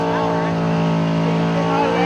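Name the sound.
drag race car run with big carburetor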